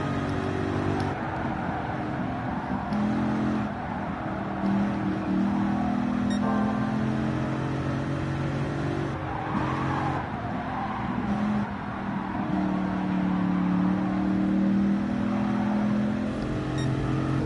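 Dodge Viper engine in Gran Turismo Sport, a steady throaty V10 drone with rising and falling revs through gear changes and corners, loud and continuous with no talking over it.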